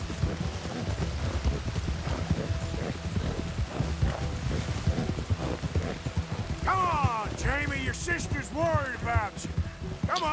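Hooves of a galloping horse in Red Dead Redemption 2 drum in a fast, steady rhythm close by, continuous throughout, with a horse's whinny near the end.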